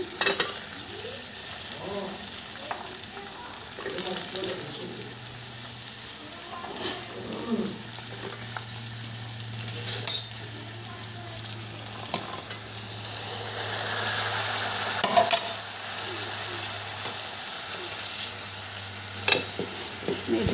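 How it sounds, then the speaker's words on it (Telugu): Keema, cauliflower and peas masala frying in oil, stirred with a spoon that scrapes the pan now and then over a soft, continuous sizzle. A low hum runs underneath and a faint voice can be heard in places. "కొంచెం బాగా ఇది నూనెలో ఫ్రై కావాలండి"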